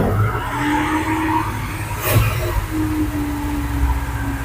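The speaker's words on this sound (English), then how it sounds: "That's why you don't do burnouts." A car performs a burnout, its tires skidding and squealing loudly and continuously over a droning engine, close up with a brief sharp burst midway and no talk.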